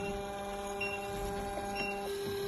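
A Defi 8 defibrillator monitor's printer runs after a shock discharge, feeding out an ECG rhythm strip with a steady mechanical whir and a few faint clicks over a constant electronic hum.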